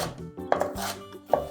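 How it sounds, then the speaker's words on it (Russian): A knife chops a bell pepper into small cubes on a cutting board in a few quick, crisp strokes, close and fairly quiet, with no talking. "Я нарезаю перец сначала вот такими ломтиками"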